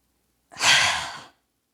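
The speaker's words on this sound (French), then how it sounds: "Inspirez un maximum d'air." One deep breath during a gentle yoga session, a single close, airy whoosh lasting under a second, heard alone without speech.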